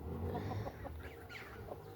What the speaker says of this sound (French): là une poule vorvex, une deuxième poule vorvex